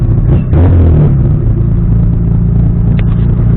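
Car engine held at a steady idle-to-mid roar with a brief surge when the throttle is pressed near the start, then settling into a continuous loud rumble; a faint high squeal appears near the end.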